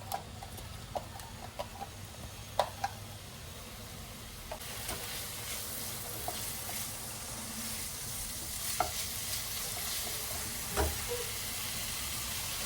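Chopped ginger, garlic and onion frying in hot oil, a quiet continuous sizzle with scattered clicks and stirring scrapes, rising a little after a few seconds.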